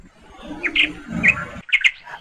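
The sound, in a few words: birds chirping in a cartoon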